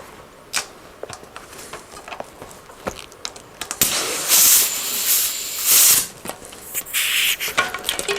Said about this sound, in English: Let's see what happens if I squirt some air in here.